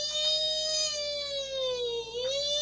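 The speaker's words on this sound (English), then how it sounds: "the air raid sirens go up" A wailing air raid siren alarm, a sustained tonal whine that sags in pitch and rises again, heard alone and fairly close for a few seconds.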